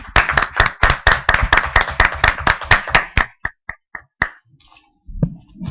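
An audience at a book presentation about multiple citizenship and migration claps loudly in a quick, close burst of applause that thins out into a few scattered claps before fading.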